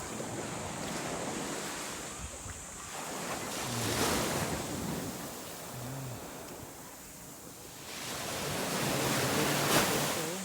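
Ocean surf rolls onto the beach at Bolinao, Pangasinan, a continuous wash of breaking waves swelling and easing in slow surges, with wind buffeting the microphone.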